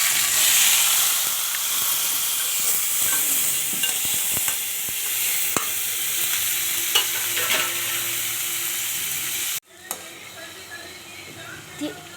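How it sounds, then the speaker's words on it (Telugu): Tomatoes fry in hot oil for ridge gourd chutney, giving a loud, continuous hiss and sizzle with scattered stirring clicks. The sizzle drops abruptly near the end to a quieter crackle. "మళ్ళీ కొంచెం ఆయిల్ తీసుకోవాలి. టమాటాలు వేసుకోవాలి."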